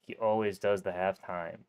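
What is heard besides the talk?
No everyday noise stands out behind the speech.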